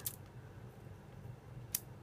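Two sharp metallic twangs from a flicked steel coil spring, one at the start and another near the end, over a low quiet hum.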